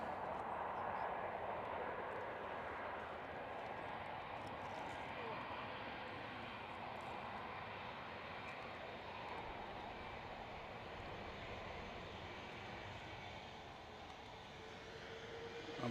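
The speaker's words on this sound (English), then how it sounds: "That's the Jet 2 that's just landed. One of the new A321 Neos." A Jet2 Airbus A321neo jet that has just landed at Manchester Airport produces a steady, distant engine roar and broadband rumble that stays fairly constant throughout, faint and far off.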